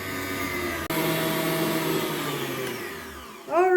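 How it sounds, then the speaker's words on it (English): Electric mixer whirring steadily as it beats cranberry bliss bar batter, a continuous loud motor drone with a brief dip near the start and a slight change in pitch toward the end. "And I'm going to get the mixer going."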